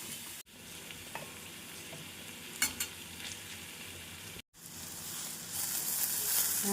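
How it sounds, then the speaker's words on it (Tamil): Purple cabbage stir-fry with grated coconut and coriander leaves sizzles steadily in a pan while being stirred, with a few soft scraping clicks and two brief drops to silence. "நன்றாக கிளறி இறக்கிவிடலாம்"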